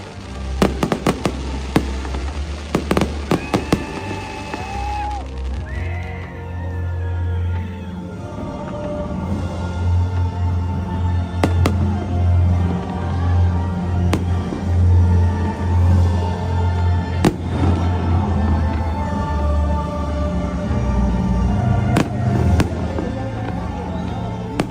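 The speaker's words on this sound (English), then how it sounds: "Fireworks!" New Year's fireworks bursting at midnight in California, with sharp cracks and pops in the opening seconds, then a continuous rumbling barrage with scattered louder bangs, while people cheer and talk over it.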